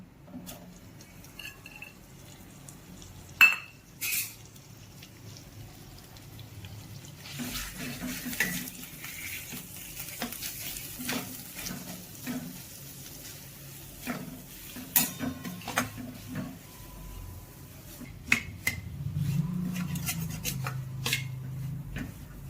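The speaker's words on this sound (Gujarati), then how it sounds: "મોળો માવો એડ કરીશું." Mawa (milk solids) roasting in two spoons of ghee in a pan on a gas stove, giving a steady soft sizzle with repeated scraping and clinking stir strokes throughout, fairly close and with no talk.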